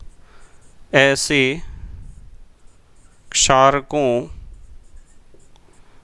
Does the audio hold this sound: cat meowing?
no